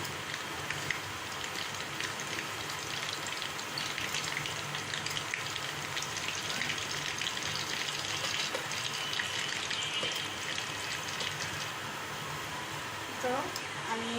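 Chickpea cutlets fry in hot oil at medium heat, giving off a steady, dense crackling sizzle that runs unbroken throughout. Faint talk sits low beneath it.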